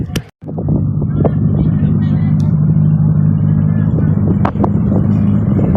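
A cammed L28E-engined car idles nearby with a loud, lumpy, rhythmic rumble at a car gathering, punctuated by brief clatters and a momentary dropout near the start, with someone talking over it.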